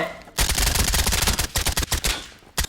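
Rapid automatic gunfire in the video game Shattered Skies, loud dense bursts of shots that briefly pause near the end and resume.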